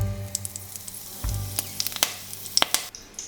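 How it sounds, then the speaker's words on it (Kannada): Curry leaves dropped into hot oil, a close crackling sizzle with rapid pops and spits over a steady hiss, alone with no talk. "ಎಣ್ಣೆ ಬಿಸಿಯಾಗಿದೆ. ಈಗ ಸ್ವಲ್ಪ ಕರಿ ಲೀವ್ಸ್ ಹಾಕ್ತಿದ್ದೇನೆ."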